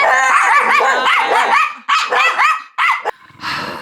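A dog in a cottage garden barks and growls at pheasants: loud, close bursts of yelping barks and growls broken by short pauses.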